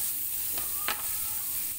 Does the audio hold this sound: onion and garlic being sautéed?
yes